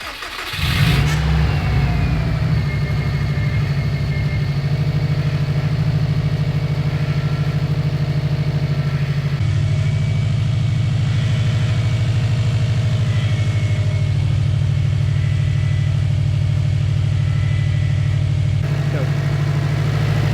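A repaired Subaru WRX engine cranks, catches and settles into a loud, steady running idle close by, holding a constant rumble throughout.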